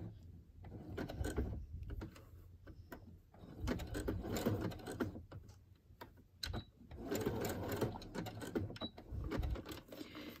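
A sewing machine stitching two pieces of fabric together for boho altered playing cards, a steady close mechanical whirring and clatter that starts and stops in short runs.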